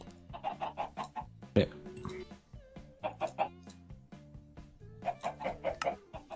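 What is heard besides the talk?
chickens clucking in Minecraft, video game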